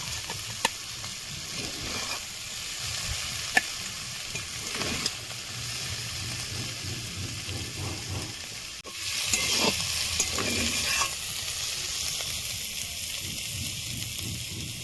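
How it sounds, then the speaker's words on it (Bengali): Cooked kathi fish chachchari scooped from a pan onto a plate, with steady stirring scrapes and a soft sizzle running throughout, a few sharper spoon clinks near and moderately loud, no talking. "আমি এখন চচ্চড়িটা প্লেটে তুলে নেব।"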